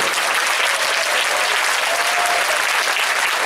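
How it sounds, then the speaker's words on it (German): A crowd at a sports competition award ceremony gives a big round of applause for the volunteers, a loud, dense and steady roar of clapping that stays even throughout with no talk. "Ein herzliches Dankeschön, einen großen Applaus dafür."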